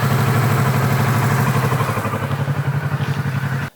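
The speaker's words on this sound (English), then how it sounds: "now all the microphones are around the bike, let's switch it on and see how we can get our low notes" A motorbike engine idling with microphones placed around the bike, a loud, close, steady low rumble with rapid pulsing beats that cuts off abruptly at the end.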